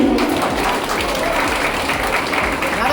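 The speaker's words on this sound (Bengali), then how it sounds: "একটু সকলে জোরে একটু হাততালি" Audience clapping loudly and continuously at an outdoor student political gathering, a thick unbroken wash of applause with voices mixed in beneath.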